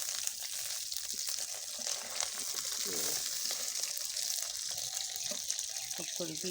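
Three fish fry in hot oil in a home kitchen, a continuous hiss and crackle that runs throughout, mixed with running-water sounds and a few faint voices in the background.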